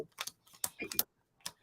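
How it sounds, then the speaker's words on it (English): A deck of cards being shuffled for a Lenormand reading, heard as a few quick, crisp riffling bursts separated by short pauses, close and fairly quiet with no talk. "I'm just going to quickly do the magic card shuffle."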